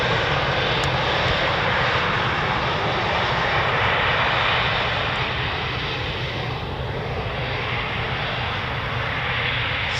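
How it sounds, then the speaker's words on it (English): A Eurofighter Typhoon jet at RAF Coningsby roars steadily and loudly throughout, a broad continuous engine rush with a slight shift in tone as it passes. "Our last Typhoon in for the morning"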